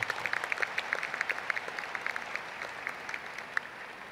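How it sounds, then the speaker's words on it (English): A small crowd at a high school graduation ceremony claps steadily and moderately, a light patter of applause that holds for several seconds without cheering. "please give your parents a quick round of applause"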